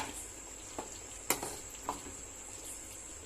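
Egg masala gravy simmers in a pan on the stove with a quiet, steady sizzling hiss, broken by a few soft pops and clicks of bubbling.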